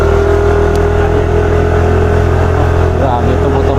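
Motorcycle engine running steadily with a loud, close, continuous drone and low rumble throughout, voices talking over it.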